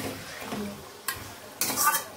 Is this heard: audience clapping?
no